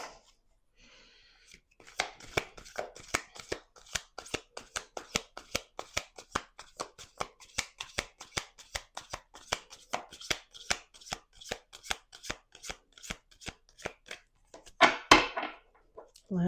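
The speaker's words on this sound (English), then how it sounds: "Let's do 2 more shuffles." Tarot cards shuffled by hand in a long run of quick crisp riffling flicks, steady and close, with a brief rustle at the start and a louder shuffle burst near the end.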